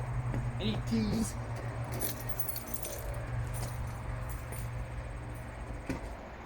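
Keys jangle near a car during a headlight halo installation, a brief rattling cluster early on followed by lighter metallic clinks over a steady low hum, with people talking faintly nearby.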